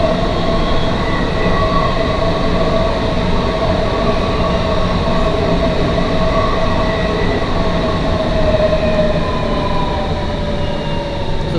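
A London Underground S-stock train on the Circle Line, in a train simulator game, rumbles loud and close with a continuous drone and rising motor whine, running steadily throughout with no voices.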